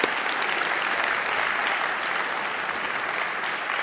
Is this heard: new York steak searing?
no